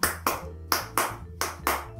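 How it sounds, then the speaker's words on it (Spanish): Audience applause at a live street show in a public square, heard as six sharp bursts of clapping at a steady rhythm, each swelling and fading quickly, fairly close and clear with no talk over it. "¡Fuerte el aplauso!"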